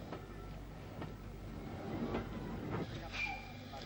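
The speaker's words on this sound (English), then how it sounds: "The next arrival is a goods off the Letterkenny branch." A goods train arriving off the Letterkenny branch of a 1940s–50s Donegal railway in Ireland, with quiet rolling rumble, periodic wheel clicks over rail joints and a brief high squeal, faint and continuous.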